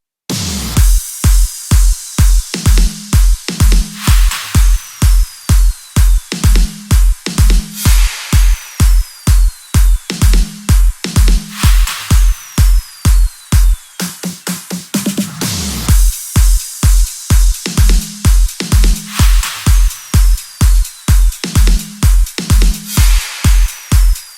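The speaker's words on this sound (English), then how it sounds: "Together all the drums and FX sound like this." A loud, steady electronic dance beat with a driving four-on-the-floor kick, snares, and hi-hats, layered with swooshing effects and a brief drop near the middle.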